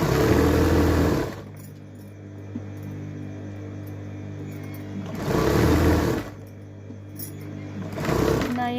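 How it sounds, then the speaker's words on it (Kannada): Sewing machine stitching a back-hook blouse, running in three close, loud bursts of rapid stitching separated by quieter pauses with a low steady motor hum underneath. "ಬ್ಲೌಸ್ ಸ್ಟಿಚ್ ಮಾಡಬೇಕು."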